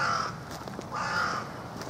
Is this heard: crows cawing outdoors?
yes